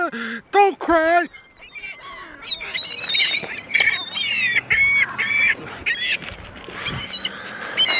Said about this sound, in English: Don't cry, little seagulls.